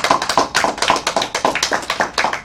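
Students in a classroom clap together in a quick, uneven burst of applause, close and fairly loud, with no talking.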